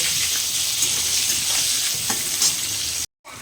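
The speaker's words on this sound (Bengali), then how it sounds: "আমার আলুটা ভাজা হয়ে গেছে" Oil sizzles and crackles steadily as potatoes fry in a pan nearby, a continuous hiss with small pops, then it cuts off abruptly.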